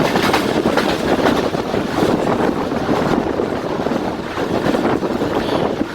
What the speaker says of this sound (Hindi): आप लोगों को अंदाज़ा हो रहा होगा स्पीड का हवा के शोर से, ट्रैक साउंड से।